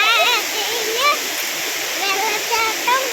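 A forest waterfall among bamboo thickets and slippery rocks rushes in a constant, loud broadband roar, with people chattering over it nearby.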